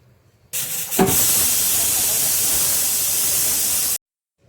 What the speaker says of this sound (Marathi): कुकरला त्याच्या तीन शिट्ट्या करून घ्यायच्या आहेत